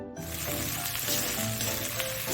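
Spice masala with cumin powder and chopped coriander leaves sizzling loudly in a pan while being stirred, a dense continuous hiss with faint scraping, close and unbroken by talk.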